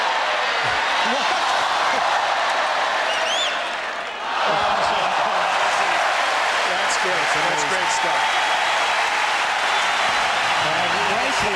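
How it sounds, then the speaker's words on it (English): A crowd rises in a standing ovation after a rally at Roland Garros in Paris during the 2001 French Open match between Agassi and Melligeni. Loud, sustained applause fills the stadium while a commentator talks over it. "they stand and applaud here in Paris. Standing ovation"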